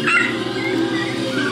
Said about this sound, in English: Oh, we got a yip from one of them.